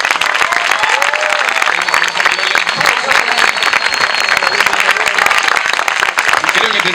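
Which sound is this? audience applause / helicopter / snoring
audience applause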